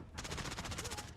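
Rapid automatic gunfire from a first-person shooter played on a PS5 with a DualSense controller, a steady burst of about a dozen evenly spaced shots, loud and close, with no talk over it.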